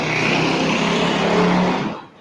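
A motor vehicle, given as a motorcycle, passes close outside an apartment with a loud broadband roar that fades away at the end, and nobody talks over it.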